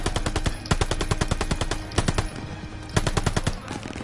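Rapid automatic gunfire from the shooter game Call of Duty: Vanguard, loud and close, with fast continuous bursts separated by brief pauses.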